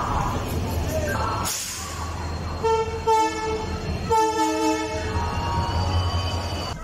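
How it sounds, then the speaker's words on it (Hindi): A train pulling into a station on a Kolkata to Mumbai journey, with a steady rumble of rolling carriages and several loud horn blasts, close and dominant over background noise. "और ये आ गया हमारा ट्रेन।"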